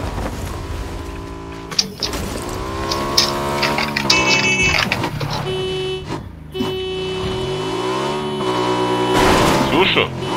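A motorcycle engine in the PUBG video game runs and revs, its pitch rising and falling as it moves, with players talking over it and some other game sounds mixed in.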